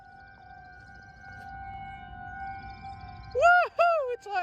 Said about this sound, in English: The sirens are really satisfying. And it's loud too.